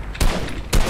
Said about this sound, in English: Oh no, I'm getting shot at.